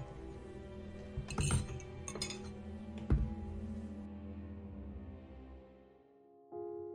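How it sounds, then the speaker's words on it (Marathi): Dishes cleared from a dining table clink and clatter in a few bright bursts over a soft sustained musical background, then fade to near quiet. "तिने टेबलवरचं सगळं किचन मध्ये नेऊन ठेवलं आणि भांडी पण आवरून घेतली."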